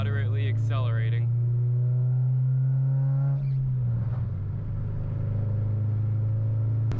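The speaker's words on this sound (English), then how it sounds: "So yeah, there's some slow acceleration for you." An Acura RSX with a custom exhaust accelerates slowly in fourth gear around 3,500 RPM, giving a steady, moderately loud low engine drone whose pitch slides gradually, with a short whine-like tone at the start.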